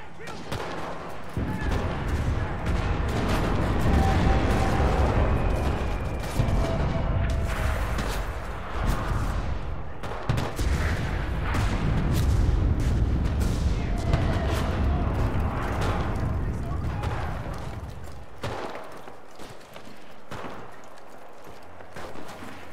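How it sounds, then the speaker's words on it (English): Artillery fire in the World War II shooter Enlisted sounds as a dense, sustained barrage of heavy booms and blasts. The rumbling detonations overlap continuously for over twenty seconds, loud and close, easing slightly toward the end. "Artillery, fire."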